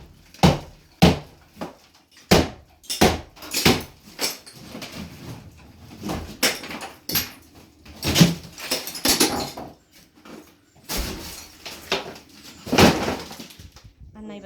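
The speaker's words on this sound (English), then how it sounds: "Tap it down the right hand side with a hammer and it should come away from the wall." Sharp, irregular knocks and thuds of a hammer tapping a wooden door frame off a wall, close by, with rattles and clatter between hits.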